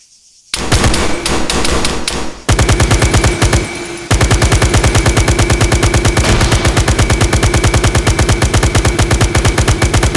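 Automatic gunfire from a weapon in ARMA 3 on its alternate fire mode, loud rapid bursts that start after a brief silence and then become a steady, close, rhythmic stream of shots.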